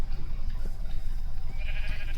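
A sheep in the Minecraft video game bleats once, short and fairly close, over a faint background of game ambience.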